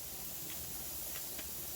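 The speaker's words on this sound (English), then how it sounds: "there's the steady stream of steam" A pressure canner on a stove vents a steady, even hiss of steam while chicken is being canned, a faint continuous rush with no breaks.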